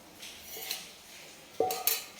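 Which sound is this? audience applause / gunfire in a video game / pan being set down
pan being set down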